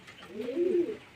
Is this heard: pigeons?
yes